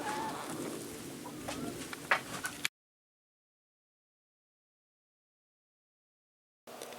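Chickens in deep-bedded winter housing on a 15-degree day cluck softly in a few close, short bursts before the sound cuts to silence, then resumes faintly at the end.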